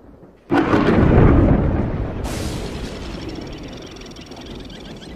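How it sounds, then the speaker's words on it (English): Thunder from a storm over the African bush cracks sharply and then rolls into a long, loud rumble that slowly fades, with no voices over it. "Storm ignites the bush,"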